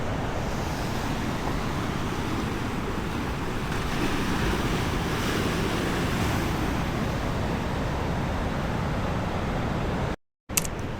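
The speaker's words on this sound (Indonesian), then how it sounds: "Kalian bisa menonton ombak dari sini" Ocean waves surging at Watu Bolong beach near Yogyakarta, a steady loud roar of heavy surf with wind noise buffeting the microphone throughout, cut by a brief dropout near the end.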